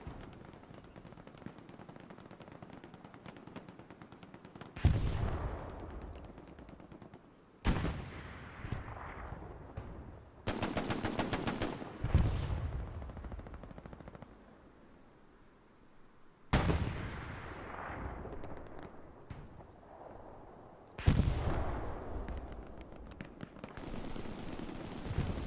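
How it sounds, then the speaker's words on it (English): Sustained machine gun fire from a rooftop position in the WWII shooter Hell Let Loose on Utah Beach, with repeated loud bursts and heavy booming impacts separated by quieter stretches of distant battlefield rattle. "PTK still shredding it with the MG up there in the rooftop"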